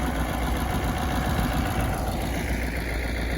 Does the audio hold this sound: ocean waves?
no